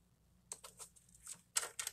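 Paper being cut to size for a handmade card, a few faint crisp snips and rustles in quiet, closer and sharper toward the end.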